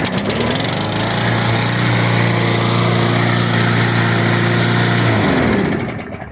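A Briggs and Stratton lawn mower engine, just started after repair, runs at a steady, loud drone for several seconds and then begins to wind down near the end, with no talking.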